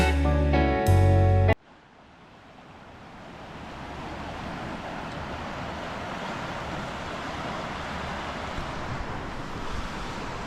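Natchaug River in Natchaug State Forest, Connecticut, rushing along as a steady, broad wash of flowing water that holds an even level after a brief loud noise at the start.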